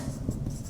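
Chalk or marker writing on a board during a science lesson makes a short, close scratchy stroke sound without speech.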